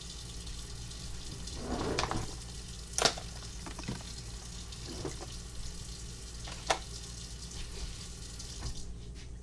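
Kitchen tap running while something is rinsed under it, a steady soft water hiss with a few small clinks and splashes, fairly quiet and with no talking.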